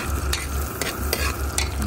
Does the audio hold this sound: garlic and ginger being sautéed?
yes